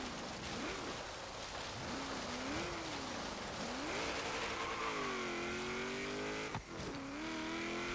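A 1973 Ford XB Falcon GT muscle car with added power snarls through an autocross run in Forza Horizon 3, its engine pitch swinging up and down with gear changes, loud and continuous over rain-like hiss.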